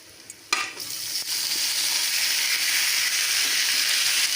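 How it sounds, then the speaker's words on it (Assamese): Chicken pieces go into a pan of browned fried onions and are stirred for a chicken curry with khar, setting off a sudden loud sizzle that settles into a steady, close frying hiss with scraping stirs and no talk. "এয়া পিঁয়াজখিনি ৰঙচুৱা হৈ গৈছে। এতিয়া ইয়াত মাংসখিনি দি দিম।"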